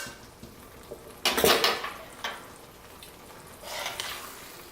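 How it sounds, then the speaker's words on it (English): Linguine with chickpea, tomato and fennel sauce being served into a bowl, with a few brief clinks and scrapes of utensils against dishware, one louder burst of clattering in the middle, over quiet kitchen room tone. "I would take my linguine right here in a nice bowl"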